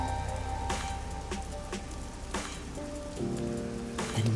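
Steady rain falling on the neon-lit streets of Kamasaki District in Master Detective Archives: Rain Code, a soft continuous patter under a quiet game soundtrack, with no voices.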